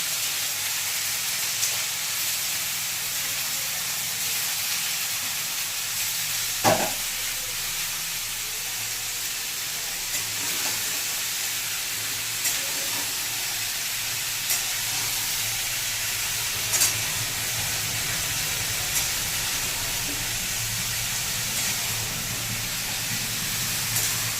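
Green papaya pieces dropped into a hot pan for a watermelon-and-papaya dalna, giving a steady, even sizzle and hiss throughout with a few faint clicks, no voices.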